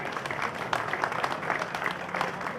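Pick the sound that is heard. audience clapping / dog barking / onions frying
audience clapping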